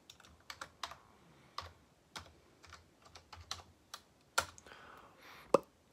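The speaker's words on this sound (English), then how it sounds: "And trying to type with one hand." Keys on a computer keyboard tapped slowly and unevenly, as if typed with one hand, in scattered clicks with pauses between them, fairly close and alone with no talk.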